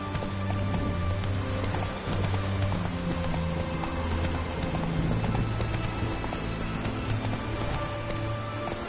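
Roach the horse galloping in Witcher 3: Heart of Stone, a fast rhythmic clip-clop of hooves running without a break under a steady layer of game ambience and music, with no talking.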